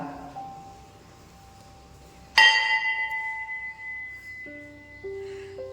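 A single bright temple bell strike rings out and decays slowly with a sustained metallic tone, followed later by softer ringing tones over quiet background.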